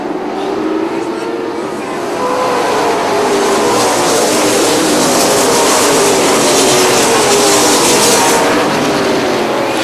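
Super late model race cars roar around a dirt track in a close, loud, sustained engine drone with rising and falling pitch as they pass, swelling through the middle and staying dense to the end.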